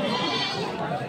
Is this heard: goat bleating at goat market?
yes